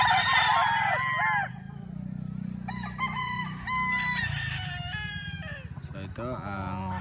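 Young banded gamecock stags at a game farm crow repeatedly, several birds overlapping with rising and falling calls, close and loud over a steady low hum, with speech mixed in.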